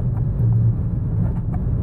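A car drives steadily with an unexperienced driver at the wheel, heard as a constant low rumble from inside the cabin with no talking.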